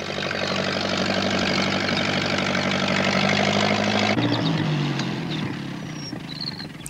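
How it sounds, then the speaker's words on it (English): A tractor engine runs steadily at close range, a loud, low chugging drone with a knocking rhythm that shifts pitch partway through as it keeps going without pause. "Pat wasn't sure that he wanted to ride on a tractor"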